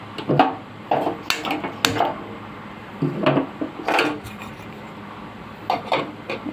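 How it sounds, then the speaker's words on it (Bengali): A pot of hot water on a kitchen stove having its lid fitted on: several close, sharp clattering knocks and scraping rubs come in irregular bursts separated by short pauses, with no talking. "দিলাম ঢাকনাটা আটকে"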